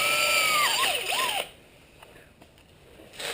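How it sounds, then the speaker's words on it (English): A drill whines with a shifting pitch as it bites through a Honda XR650R motorcycle frame rail, then stops abruptly, leaving faint mechanical ticks. "so we've drilled all the way through"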